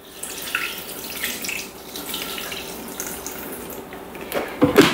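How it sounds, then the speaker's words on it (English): About half a cup of water (125 grams) is poured into a Thermomix bowl, a steady splashing trickle with brief surges, ending in a louder burst of sloshing. "125 grams of water, so that's half a cup."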